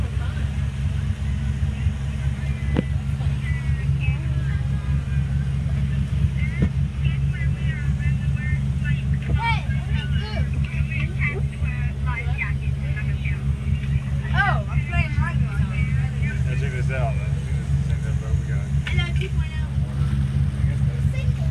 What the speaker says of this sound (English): And there's the water from our propellers or whatever it uses to drive this boat.